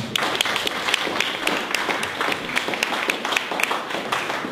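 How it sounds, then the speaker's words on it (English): An audience at a branding talk gives a round of applause, a loud, sustained patter of many hands with a few sharp individual claps standing out. "So let's give him one last round of applause."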